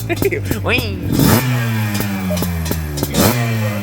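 Midsize quad ATV engines revving at a drag race start, a close buzzing engine that climbs in pitch, dips and climbs again with sharp throttle blips, while voices talk over it.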